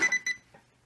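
A Deteknix XPointer dual-power wader pinpointer gives three quick, close, high-pitched electronic beeps in the first third of a second, then falls quiet apart from faint low room noise.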